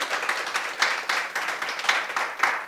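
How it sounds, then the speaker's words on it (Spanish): A church congregation applauding in praise of Jesus, a soft but dense crowd of hands clapping in a steady wash with faint rhythmic swells, slightly distant. "Vamos a darle un fuerte aplauso al Señor Jesús."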